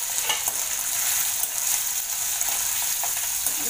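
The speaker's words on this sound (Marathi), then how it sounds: "छानपैकी असं परतून घ्यायचं आहे." Cut potatoes are sautéed in a pan with fried green chillies for sabudana khichdi, giving a loud, continuous sizzle with light stirring scrapes throughout.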